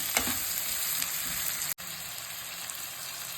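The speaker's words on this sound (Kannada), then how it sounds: "ಮಾಮೂಲಿ ಉಪ್ಪಿಟ್ಟಿಗೆ ಒಗ್ಗರಣೆ ಕೊಡ್ತೀವಲ್ಲ ಹಂಗೇನೆ ಒಗ್ಗರಣೆ ಹಾಕ್ತೀವಿ" Mustard seeds, green and dried red chillies and long-sliced onion crackle and sizzle in hot oil for a rice-grits coconut uppittu tempering, a steady close-up fry with a brief dropout partway through.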